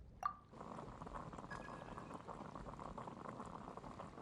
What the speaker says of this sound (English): I'll boil some water and make a cup of tea